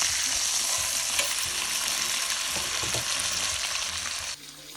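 Pork tenderloin sears in a hot pan, giving a loud, continuous sizzle close by with faint stirring knocks as it is turned, quieting abruptly just before the end.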